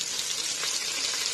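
Mint leaves sautéing in mutton biryani masala for Hyderabad mutton biryani, a steady close hiss of frying sizzle with soft wet crackle throughout, no voices.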